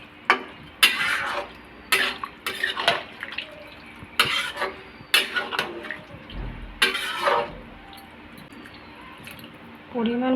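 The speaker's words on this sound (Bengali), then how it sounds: "এখন আমি জল দিয়ে দেব" Water is poured into a pan of jackfruit curry in short splashing spurts with quiet pauses between them, close and moderately loud, while someone talks nearby.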